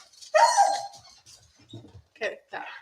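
A dog barks loudly once, then gives shorter barks and whimpering sounds with soft panting between them, close by in a home, mixed with people talking.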